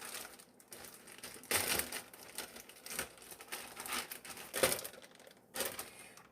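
Plastic bag of tortillas handled up close, quiet crinkling and rustling in several irregular bursts with softer gaps between them.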